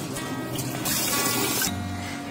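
Water is poured over chana dal in a bowl to soak it, a loud, steady splashing pour that lasts about a second, with quieter kitchen sounds before and after.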